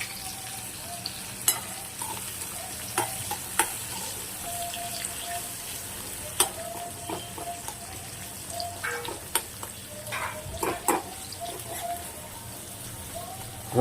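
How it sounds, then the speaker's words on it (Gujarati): Sliced onions sauté in a pan until golden brown for a Kathiyawadi onion, potato and tomato curry. There is a soft, steady sizzle with occasional clinks and stirring taps, heard fairly close. "કાંદા થોડા પીળા પડી જાય ને, ગોલ્ડન બ્રાઉન જેવા સંતરાઈ જાય ને ત્યાં સુધી સાંતળો"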